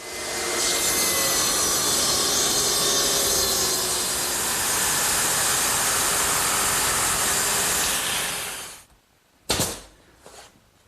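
Saw cutting mitered wood trim in a workshop, a loud continuous rasping whine lasting about nine seconds, then cutting off into a couple of sharp knocks and clatters.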